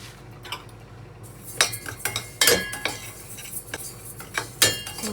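Sesame seeds, white mixed with black, roasting in a pan, with metal spoon scrapes and clinks against the pan rising in irregular bursts over a low steady background, close and moderately loud, no talking.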